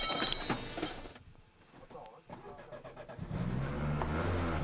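A damaged Citroën rally car's engine is cranked and fires up after the car is pushed back onto its wheels at a Sardinia rally stage, rising to a loud steady running roar that swells in the last seconds, with people talking nearby.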